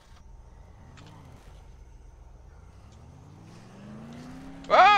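A car engine in the Dead Island video game hums low and rises steadily in pitch as it accelerates, ending in a sudden loud burst of noise.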